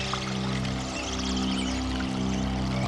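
Water from an ambient plugin sample, rate-adjusted, plays as a steady pouring and trickling wash, close and continuous for a few seconds with faint tonal hum beneath.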